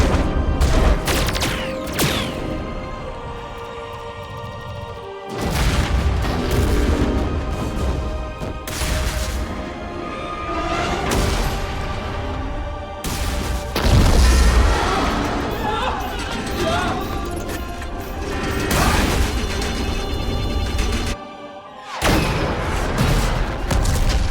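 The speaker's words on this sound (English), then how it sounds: "All ships, full barrage." Starships unleash a full weapons barrage in the game Mass Effect, a dense, continuous wall of booming blasts and crashing fire over about twenty seconds, with brief drops and battle voices mixed in.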